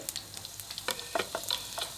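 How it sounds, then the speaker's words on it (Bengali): Oil crackles and spits in quick irregular bursts as dried red chillies, mustard, cumin and fennel seeds fry in a wok, the sizzle sharp and close with scattered pops. "কড়াইতে আমি তেল দিয়ে দেব দুটো শুকনো লঙ্কা সরিষা এক চামচ জিরা এক চামচ মৌরি দিয়ে দেব"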